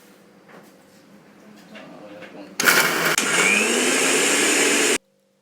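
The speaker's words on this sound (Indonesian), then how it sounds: "nyalakan blender untuk menghaluskan ayam pilet tersebut" A blender grinding chicken fillet starts up abruptly and grinds loudly and steadily for a couple of seconds before cutting off, after faint background talk.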